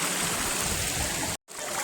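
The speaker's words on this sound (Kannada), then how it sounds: "ನೋಡಿ ನೀರು ಯಾವ ಥರ ಬರ್ತಿದೆ ಅಂತ" Rain-swollen stream water rushing steadily in a broad, close wash, with a very brief dropout near the end before the flow resumes.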